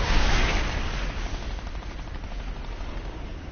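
Rapid gunfire in the video game Fortnite, dense bursts of shots running continuously, loudest at the start and then a steady rattling barrage with no talking.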